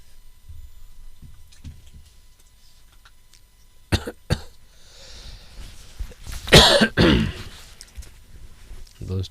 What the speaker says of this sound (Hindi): इस समय सर्दी का समय भी है, खांसी होगा इसलिए अब बताना तकलीफ होती है